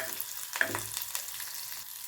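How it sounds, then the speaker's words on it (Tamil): Onion and garlic sautéing in a clay pot for a grandma-style anchovy fish curry, a faint, steady sizzle with a couple of soft scraping stirs, no voices. "இப்போ வெங்காயம் பூண்டு நல்லா வதங்கிடுச்சு பாருங்கள்"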